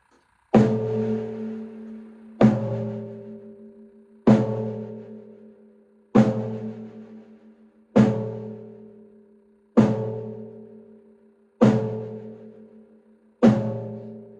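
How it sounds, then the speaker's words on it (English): A snare drum and floor tom on a drum set are struck together with a slightly bouncing stick, eight evenly spaced ringing hits about two seconds apart, each with a full decay and nothing else heard. "So this is the way I produce the black sound on the drum set."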